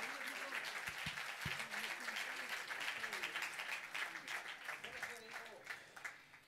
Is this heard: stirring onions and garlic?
no